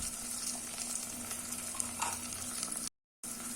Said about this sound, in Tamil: ஒரு 2 நிமிஷம் இதை நல்லா வதக்கிக்கலாம்.